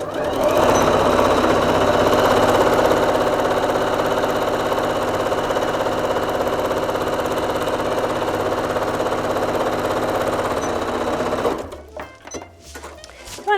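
A sewing machine drives a long, loud, continuous run stitching pieces of fabric for a paper-pieced latte mug block, close and steady for most of the clip before stopping and leaving quieter handling sounds.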